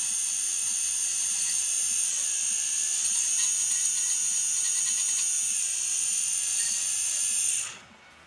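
A dental lab handpiece with a round burr gives a steady high-pitched whine that dips briefly in pitch partway through and then cuts off near the end, close and alone.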